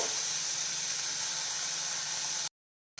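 Cut onions sauté in a pan for a ladies finger (okra) dish, giving a steady, even hiss of sizzling oil that runs unbroken until it cuts off abruptly near the end.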